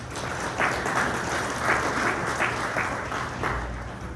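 A morning community gathering applauds Inland Janitor Supply at an annual mayoral update, steady dense clapping filling the room at moderate loudness throughout with no speech.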